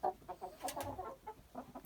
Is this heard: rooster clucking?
yes